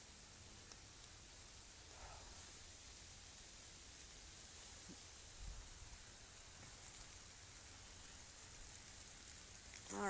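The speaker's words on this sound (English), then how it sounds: "Holy rain." Rain falls outdoors with a steady, soft, even hiss that never breaks, faint and distant rather than close and pattering, with no voices over it.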